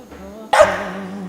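A single loud dog bark on a film set, sharp and close, breaking into a quiet background with a faint low hum beforehand.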